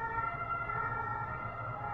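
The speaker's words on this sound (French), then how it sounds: "vu l'ambulance qui vient de passer" An ambulance siren wails at a distance, a steady drawn-out tone over low road rumble, with no voices during it.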